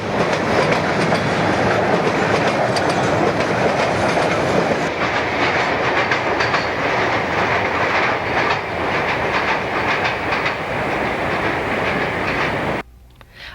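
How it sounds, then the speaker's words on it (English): A Norfolk & Western mixed freight led by a high-nose SD45 locomotive, long hood forward, rolls past heading north, with loud steady wheel clatter and rumble that drops off sharply at the very end. "we see an N&W mixed freight led by high-nose SD45, long hood forward, heading north"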